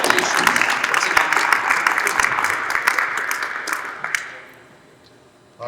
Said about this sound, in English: one last round of applause for all 5 student athletes and families up here